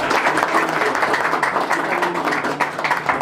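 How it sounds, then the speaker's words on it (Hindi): An audience at a blind welfare association award function claps loudly and continuously to welcome a guest, a thick, even wash of applause with faint voices beneath. "जोरदार ताली से स्वागत है मैम"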